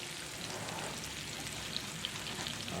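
Pork chops frying in a skillet give off a soft, steady sizzle with a few scattered pops and spatters, fairly quiet and continuous with no talking.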